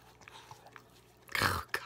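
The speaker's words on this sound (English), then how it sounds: "that's my pug. That's my dog. He knows I'm crying" A small pug snuffles and whimpers quietly, then gives a louder snorting, wheezy burst near the end, with soft intermittent sniffs around it.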